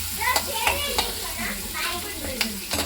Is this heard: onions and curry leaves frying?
yes